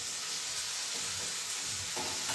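Soaked cashews and raisins hit a hot pan and sizzle steadily, a close, continuous hiss of frying with faint stirring scrapes underneath.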